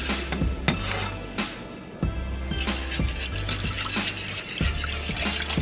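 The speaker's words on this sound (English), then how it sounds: "So now we're gonna add our half and half to the pot. We're gonna whisk this in here." Half and half poured into a pot and whisked in, with liquid splashing and sloshing alongside rhythmic clinks of the whisk against the pot, close and fairly loud.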